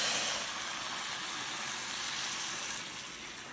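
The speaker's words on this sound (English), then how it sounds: "Now I'm going to add the water." Hot water pours steadily into a pot for Korean seaweed soup, a continuous hissing, bubbling rush that tapers slightly at the end.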